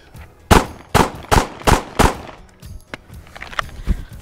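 Handgun fire during a ten-round pistol drill with a reload, heard as five loud, evenly spaced close shots followed by fainter clicks and handling noises, with no voices.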